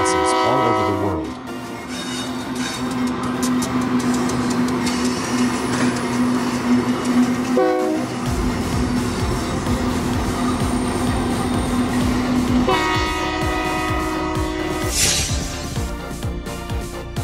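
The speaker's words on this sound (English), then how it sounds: "Oil trains are large capacity vehicles used to transport oil or liquefied gases all over the world." An oil tanker train rumbles past with a long, sustained horn blast held for several seconds over the rolling clatter of rail cars.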